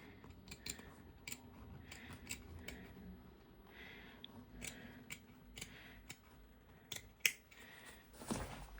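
Scissors snip through fabric lining while sewing a lining to an invisible zipper, a series of short, crisp close cuts spaced irregularly with quiet pauses between.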